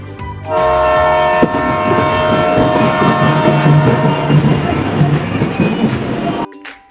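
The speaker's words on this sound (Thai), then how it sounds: "ระหว่างเล่นนะคะก็จะมีรถไฟเหาะให้ดูด้วยนะคะ" Roller coaster running at an indoor air-conditioned amusement park, a loud continuous rumbling roar with tonal squealing, rising abruptly and cutting off near the end, with a voice talking over it.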